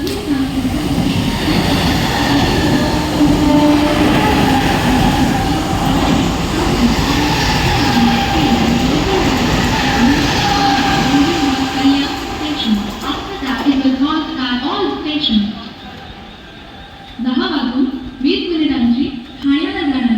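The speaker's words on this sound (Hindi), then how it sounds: "अंबरनाथ जाने वाली एक तेज लोकल थोड़े ही समय में प्लेटफॉर्म क्रमांक 3 पर आ रही है।" A Mumbai fast local train rolls into a railway platform, a loud continuous rumble and rail clatter with squealing wheels and metallic clicks as it slows, while a station announcement plays over the noise.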